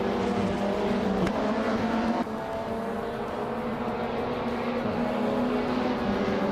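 Race cars in a video game, led by a 2016 Opel Astra TC at Deutschlandring, roar continuously with steady engine drone and a brief whoosh of a car passing, no talk over it.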